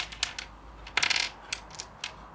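Four red dice rattle and clatter, a loud cluster of sharp clicking impacts in the middle bracketed by a few lighter taps before and after, close and alone.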